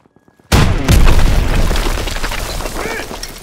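Wall-breaching explosion in the Call of Duty: WWII campaign: after a few faint ticks of quiet, a sudden loud boom bursts in and rumbles on with debris crashing and slowly fading over several seconds.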